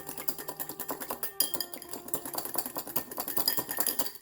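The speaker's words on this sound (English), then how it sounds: "Now whisk everything together." A creamy salad dressing whisked in a bowl for a red cabbage pear salad: quick, steady, close rhythmic clinking and scraping of the whisk against the bowl, continuing throughout without talk.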